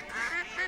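A duck gives a single short, nasal quack, close and clear, lasting under a second with no other sound around it.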